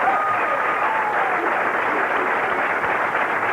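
A bowling crowd at the 1991 Flagship City Open applauds a strike with steady, sustained clapping throughout, with a commentator faintly audible beneath.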